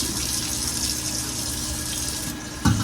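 A kitchen faucet pours a constant stream over food being rinsed for Sunday dinner, a steady close hiss with a brief clunk near the end.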